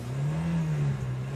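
Loud car engine revving up, a steady, strong drone that swells and holds across a brief burst, heard close with no talk.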